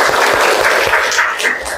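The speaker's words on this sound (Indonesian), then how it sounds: "Tepuk tangan." Children applauding in a classroom after group presentations in an Islamic history lesson, a dense burst of brisk hand clapping from a group close by, fading slightly at the end.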